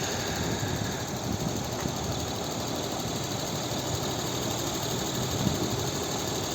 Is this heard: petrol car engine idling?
yes